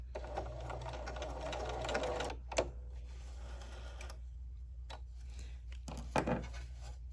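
A sewing machine with a lengthened stitch runs along a drawn line on an old towel, a close rapid mechanical whir in two bursts separated by short pauses and clicks, no talking.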